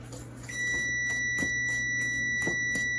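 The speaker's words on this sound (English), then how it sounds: "And that is a timer" A kitchen oven timer signals that a loaf of homemade bread is done, sounding a steady, sustained electronic beep that starts partway through and holds loud over a low kitchen hum, with a few faint clatters underneath.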